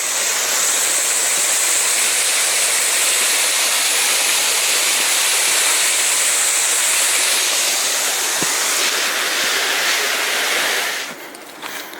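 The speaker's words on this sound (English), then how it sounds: "All of these streams and waterfalls filled with lots of water" Rushing water from full streams and waterfalls along the E&N Railway line between Alberni Summit and Cameron Lake in November, a loud, steady broadband roar that holds throughout and eases slightly near the end.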